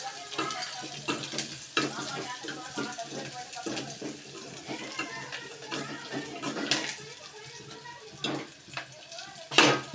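Onions sizzle and fry in a pan with frequent stirring scrapes and clinks, a steady crackle running throughout, with faint voices in the background.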